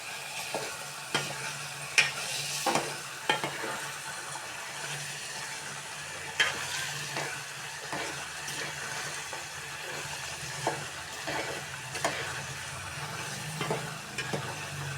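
A spoon stirs tomato curry cooking in oil with water and chili powder in a pan, steady sizzling with repeated scraping and clinking strokes, close and continuous.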